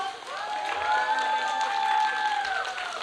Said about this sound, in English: Parents, please cheer our students by a loud applause.